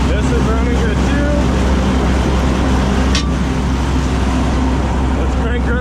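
A combine harvester engine runs at a steady, loud, continuous drone close by, with a faint voice underneath.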